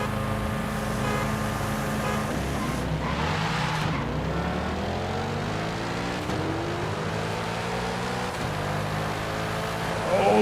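A Chevrolet Corvette engine in the racing game Forza Horizon 5, droning steadily and climbing through the gears with rising harmonic whines, loud and continuous from start to finish.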